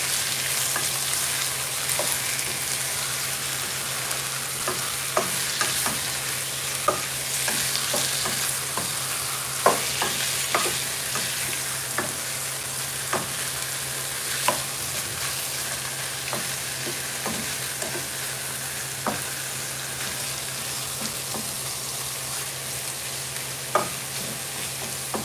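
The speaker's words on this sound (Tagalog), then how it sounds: "I-fry ko siya para maluto." Chicken frying in a pan at home, a steady close sizzle with frequent small crackles and pops and occasional stirring clinks running throughout, no talking.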